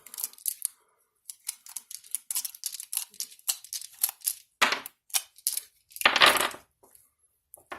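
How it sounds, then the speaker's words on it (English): Bullets are pushed out of a Kel-Tec P11 pistol magazine one after another, giving a steady run of close, crisp metallic clicks and rattles. A louder clatter comes near the end. "It's a lot easier pushing in if you take the bullets out of the mag first"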